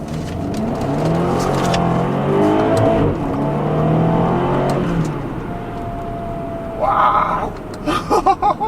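2011 BMW X5 M, stock, accelerating hard from a standstill, its engine climbing loudly through rising revs with gear shifts before easing off, followed by a few short noises near the end.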